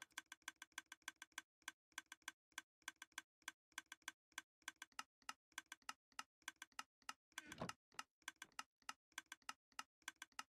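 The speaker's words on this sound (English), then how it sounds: "I will say, just hearing that constant clicking will probably drive me insane. Yeah, all the different droppers ticking." Minecraft droppers ticking constantly in a video game, a long run of sharp, regular clicks in quick uneven bursts, crisp and close, with one brief louder rustling burst partway through and no talk.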